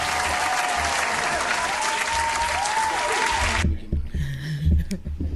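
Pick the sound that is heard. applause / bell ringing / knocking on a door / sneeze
applause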